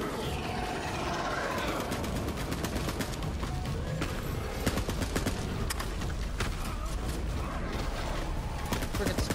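Continuous rattling gunfire fills a chaotic Borderlands 3 firefight, sharp clustered shots repeating over a steady busy backdrop of game noise, with a voice faintly present beneath the din.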